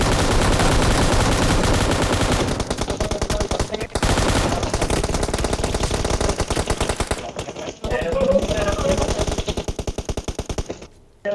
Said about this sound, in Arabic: في قناص عم يضرب من بعيد